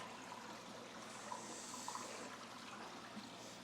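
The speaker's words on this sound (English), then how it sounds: "Get all the air out of the sponge filter." An aquarium sponge filter is pushed under water in a fish tank, giving a steady, close bubbling and gurgling as trapped air escapes, with a few louder glugs along the way.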